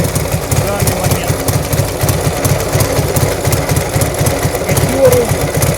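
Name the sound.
Ural motorcycle trike with Dnepr engine idling cold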